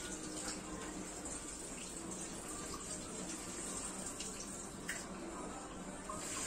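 Hot tap water runs steadily into a kitchen sink to rinse chickpeas for a stew, a continuous close hiss and splash with small bursts, no voices.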